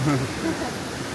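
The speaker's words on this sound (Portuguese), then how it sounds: "Olha, tem aqui cada cascata mais bonita, não é?" A Fervença waterfall gives off a steady, broad rushing roar that stays even for just over a second, with faint voices mixed in.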